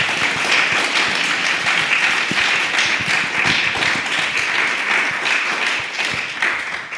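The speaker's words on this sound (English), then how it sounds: "Let's have a big round of applause for our panel" An audience at a panel discussion applauds warmly, a sustained dense patter of many hands clapping that stays steady for several seconds and then eases off slightly.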